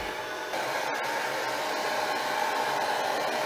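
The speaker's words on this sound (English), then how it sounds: "now we're going to have to use the hairdryer" A hair dryer blows with a steady, loud whoosh throughout, stepping up slightly in intensity after a moment, with no voices.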